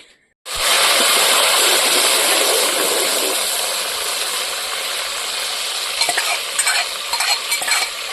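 Spices hitting hot oil in a sudden loud sizzle as pav bhaji vegetables are tempered, a dense hiss that starts abruptly and continues steadily, with a few scraping stirs near the end.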